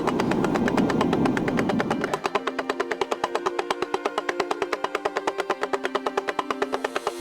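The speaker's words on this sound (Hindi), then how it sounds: "ये तो डमरू की ध्वनि है।" Damru hand drum played in a devotional mythological drama scene, a rapid steady rattle of sharp strikes continuing for several seconds, loud and close, preceded by a brief swell of other sound.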